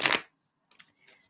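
A quick riffle of shuffling cards, then a few short, faint papery flicks close by in a quiet room.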